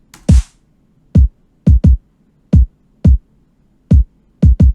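Punchy electronic kick drums thump in an uneven pattern, the first one layered with a short burst of hissing white noise.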